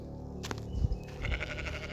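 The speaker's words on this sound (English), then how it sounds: "Hey sheep, sup? I've not got any food." Sheep on a farm base in South Australia bleat outdoors, two low, wavering calls close to the listener over a steady background hiss.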